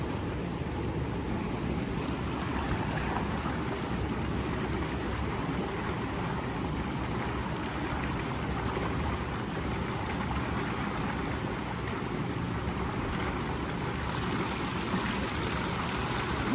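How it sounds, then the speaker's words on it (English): Steady rushing and bubbling water from swim spa jets and a waterfall churns continuously, with a constant splashing wash throughout. "I want to get the jets on one more time, and I want to turn on the waterfall."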